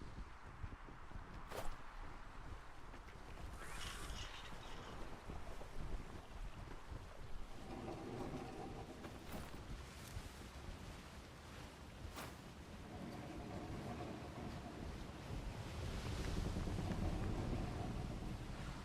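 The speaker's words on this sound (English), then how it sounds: "we're in a horrible wind" Strong wind while sailing a ship in a video game, a low buffeting rush with faint creaks and water wash, swelling gradually and fairly quiet overall.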